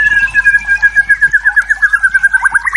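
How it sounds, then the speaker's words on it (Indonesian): Recorded song of a white-rumped shama played back through a phone app, a clear, sustained whistled phrase with rapid repeated warbling notes, close and loud with no voices. "ini jadinya aplikasi suara burung murai batu"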